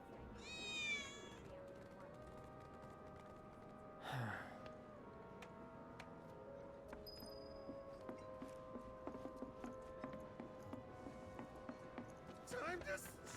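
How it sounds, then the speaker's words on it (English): Cats meowing inside Final Fantasy 7 Remake, with a clear meow near the start and more at intervals, set amid game music, footsteps and voices. "Cats."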